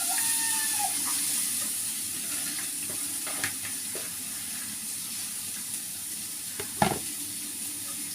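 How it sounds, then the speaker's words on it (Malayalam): A pickle mixture with chili powder sizzles steadily in a pan as it is stirred, a continuous close frying hiss with a few soft scraping knocks and one sharper clink near the end. "ഇനി നമുക്ക് ഈ മുളക് പൊടി ഇട്ട് കൊടുക്കാം. ഇളക്കി കൊടുക്കാം."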